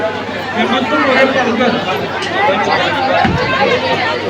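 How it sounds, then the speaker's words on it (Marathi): Crowds pack Mahalaxmi temple in a continuous, fairly loud hubbub of overlapping voices and movement, with a low bump partway through. "बघा किती गर्दी आहे. ती भरपूर गर्दी आहे आज महालक्ष्मीला."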